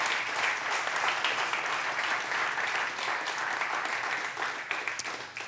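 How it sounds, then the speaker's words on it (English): Steady audience applause in a church service, dense, even clapping from a crowd that holds for several seconds and thins slightly at the end, with no talking over it. "give him a hand clap of praise"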